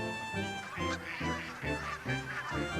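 Canada geese honk repeatedly as they come in to land on a lagoon in Alaska, a rhythmic series of loud, close calls over a steady wash of background noise.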